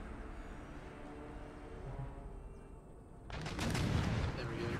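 Artillery fire and shell impacts rumble through a battle in the strategy game Empire: Total War, a low distant roar that swells into a louder burst of explosions in the last second and a half.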